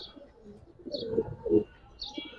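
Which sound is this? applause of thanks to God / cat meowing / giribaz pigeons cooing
giribaz pigeons cooing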